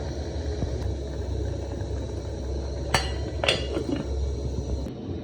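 A metal lid set onto a pot of beef wet fry cooking on the stove, two or three short clanks over a low steady burner rumble, with no voices.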